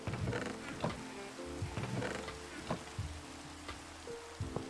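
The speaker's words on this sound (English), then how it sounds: "Pretty rain sounds" Rainfall in the video game Minecraft, a continuous soft patter and hiss with scattered light drop taps, steady and moderately quiet, over faint background tones, with no talking.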